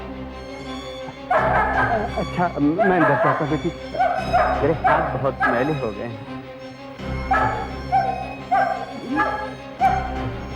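Someone talks while a dog keeps barking and whining nearby in repeated yips that come and go across the whole stretch.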